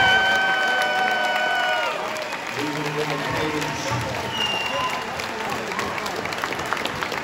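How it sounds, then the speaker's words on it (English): A crowd at an amateur fight event applauds the two fighters after their bout. Steady clapping and some cheering fill the room, with an announcer's voice and brief tones over it at the start. "big round of applause for these two fighters"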